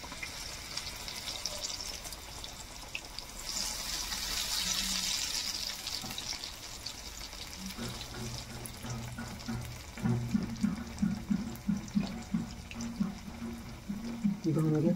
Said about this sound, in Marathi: धुवून घेतले बटाटा